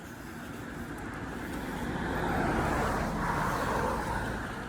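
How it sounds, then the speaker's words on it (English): A car drives past on a rural road in Tennessee, its tyre and engine noise swelling gradually to a peak and then easing off, with no talking. "Wow, another car."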